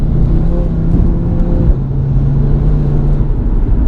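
A 2018 Audi RS3 with 510 bhp rumbles loudly and steadily, a low engine drone with a slight shift in pitch partway through, heard close with no talk.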